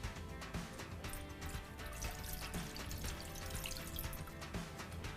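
Water being poured for simple syrup at a bar, a faint, continuous trickling and splashing of liquid into a container with no voices.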